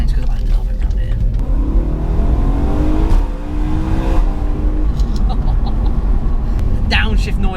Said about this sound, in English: The downshift noise is one of my absolute favourite parts.